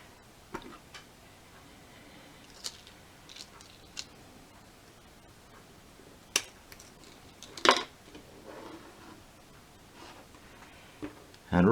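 Sharp isolated snips and clicks come from cutting a part off a Caboose Industries switch-stand kit for a model railway Pico turnout, a handful of close, crisp cuts spaced apart, with a brief louder crunch partway through.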